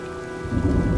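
Steady rain with a deep rumble of thunder swelling in from an approaching storm in the Heavy Rain video game, continuous and with no voices.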